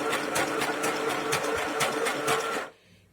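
A sewing machine stitches a stretchy t-shirt yarn drawstring pouch in a steady, close, rapid mechanical whir with regular pulses, stopping abruptly near the end.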